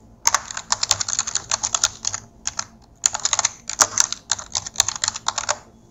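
Someone types on a computer keyboard while writing text into a LibreOffice Impress presentation: quick bursts of close, crisp key clicks separated by short pauses.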